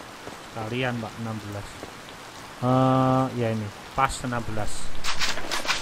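Steady rain falls in the farming video game Harvest Moon: Light of Hope as a constant soft patter under someone speaking throughout.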